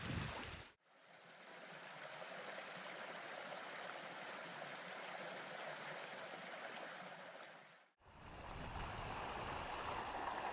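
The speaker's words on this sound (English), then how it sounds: "Would this be it, the River Kinder?" The River Kinder stream on Kinder Scout in the Peak District flows with a steady, close rushing and splashing of water that briefly cuts out twice.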